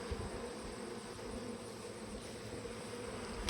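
Honeybee swarm buzzing in a steady, dense hum, close and constant with no pauses.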